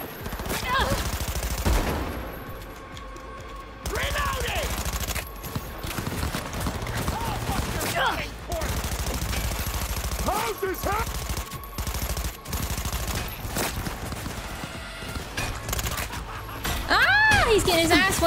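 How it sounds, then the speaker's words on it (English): Gunfire in Cyberpunk 2077 rattles in bursts across a chaotic firefight, mixed with game effects and music, while a player talks intermittently over the action. "Where am I getting shot from?"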